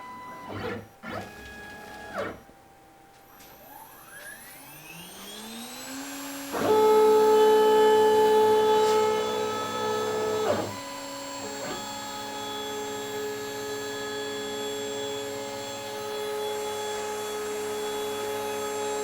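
A CNC router spindle whines up to speed and cuts across the face of a large wood bowl blank to resurface it. Loud, sustained tonal whirring shifts pitch as the cut load changes, with no talk.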